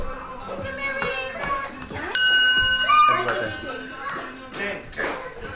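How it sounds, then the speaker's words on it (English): A single bright bell ding rings out during a card game amid lively nearby conversation and laughter. "You gotta ring the bell."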